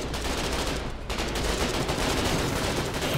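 Sustained gunfire in the war game Foxhole rattles loudly and continuously, a dense machine-gun-like fusillade with a brief dip before resuming at full intensity.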